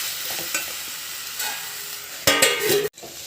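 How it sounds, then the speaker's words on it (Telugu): Ivy gourd frying in hot oil as it is stirred, a steady close sizzle with scraping stir strokes, louder bursts near the end and a short drop to near silence before the frying resumes. "ఇలా ఆయిల్లో వేసి ఒకసారి కలిపేసి 10 నిమిషాలు మూత పెడితే దొండకాయ అనేది మంచిగా ఉడికిపోతుంది."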